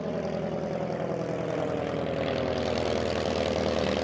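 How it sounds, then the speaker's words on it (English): A small propeller plane drones through the sky with a steady, buzzing engine hum that holds constant and fairly close for several seconds, with no voices over it. "Up in the sky, they could see a small plane approaching."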